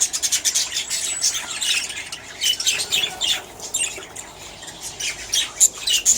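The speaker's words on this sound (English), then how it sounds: "tour of my Budgie and Finch Aviaries" Budgies and finches in a home aviary squawk and chirp continuously, a dense chatter of many small birds with sharp calls overlapping at close range.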